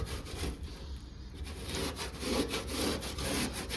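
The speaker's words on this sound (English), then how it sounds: "Watch me scuff this dirt out from the wheel well." Dirt is scuffed and scraped out of the rear wheel well of a 1979 Plymouth Volare wagon during bodywork, a quiet rapid rasping rub repeated in short strokes, with no talking.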